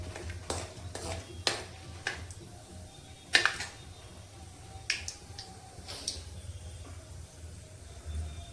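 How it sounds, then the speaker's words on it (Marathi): Bay leaf and other whole spices are sautéed in a pan for homemade paneer tikka masala; a faint sizzle sits under sharp, scattered clinks and scrapes of a spoon stirring against the pan. "आणि बाकीचे खडे मसाले ऍड करते। ते चांगले परतवून घेते।"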